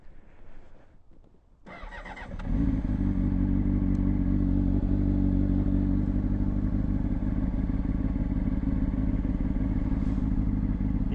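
A manual motorcycle cranks and catches after a quiet moment, then settles into a loud, steady, close-up running rumble that continues without a break and with no talk.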